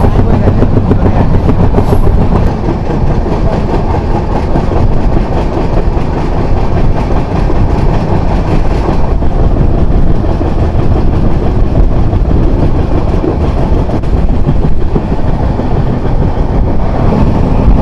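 The 12821 Dhauli Express rolls between Kolkata and Puri, heard loud and close from an open carriage door as a constant heavy rumble and wind roar with steady rattling of the wheels.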